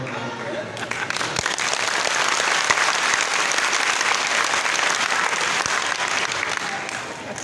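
An audience at a Hindu religious discourse on the Gita applauds loudly and continuously, a dense, even roar of many hands that swells, holds for several seconds and fades only slightly.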